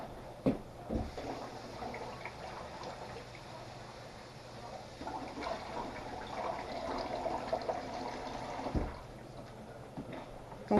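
Pearl barley is rinsed under a running kitchen tap, with water splashing and trickling steadily over the grains and a few clunks of handling close by.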